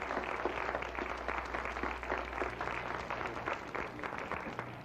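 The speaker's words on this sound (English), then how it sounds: "Big round of applause for the Capital Center." Audience applause at a fire safety show, a dense patter of many hands clapping steadily for several seconds, moderately distant and even in loudness.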